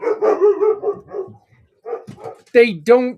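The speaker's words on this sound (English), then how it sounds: "Very sorry about the dogs." Dogs bark inside a house, several loud sharp barks arriving in short bursts between and after a person talking nearby.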